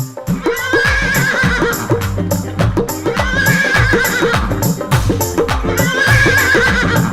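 A loud horse whinny repeats against rhythmic audience clapping and music during a devotional bhajan performance, with the neighing rising over a steady beat.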